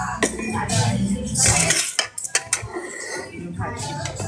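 Dishes and plates clink and clatter as they are set out on a table, with broadband rattles and a few sharper knocks, close and fairly loud, amid background chatter.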